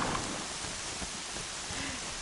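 Steady rain in the video game Horizon Zero Dawn, a dense hiss of falling drops with occasional low rumbles beneath, continuous and fairly loud.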